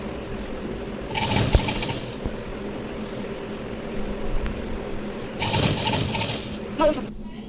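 A sewing machine stitches elastic onto the edge of a bed sheet in two short, fairly close bursts of rapid whirring, separated by a quiet pause, with no talking.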